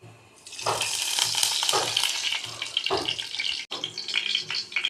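Onions dropped into a hot pan for chitranna, a sudden loud sizzle that hisses steadily with stirring scrapes and bursts of renewed crackle.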